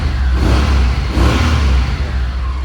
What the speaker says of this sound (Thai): เครื่องยนต์นะครับสำหรับคันนี้